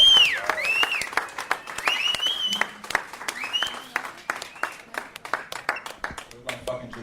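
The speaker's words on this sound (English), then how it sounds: "Give yourselves a round of applause." Crowd applauding at a memorial gathering for Carl Ruiz at La Cubana, sustained dense clapping with whoops and cheers, then thinning into scattered claps while a voice talks.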